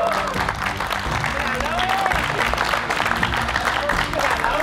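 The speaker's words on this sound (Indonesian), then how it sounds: "Mana tepuk tangannya buat Hofid?" Audience applause at a competition finale, steady and sustained from a medium-sized crowd, with a faint voice and music underneath.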